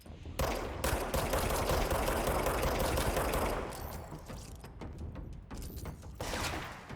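The player's gun fires in the game Control, with rapid continuous automatic fire for several seconds, then a break into scattered shorter bursts, all fairly close and loud.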